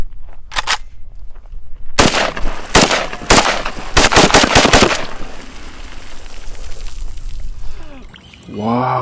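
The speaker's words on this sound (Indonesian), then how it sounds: "Wow, ini tembak-tembakan AK-47 teman-teman." A toy AK-47 rifle fires a short early burst, then several loud rapid volleys of sharp cracks in quick succession, followed by a softer fading rattle; a voice is heard near the end.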